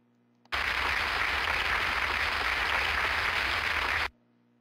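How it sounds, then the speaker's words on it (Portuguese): A PowerPoint clip-art applause effect plays: dense, even crowd clapping that starts abruptly, holds at steady volume for roughly three and a half seconds, and cuts off sharply. "Depois que eu inseri esse aplauso"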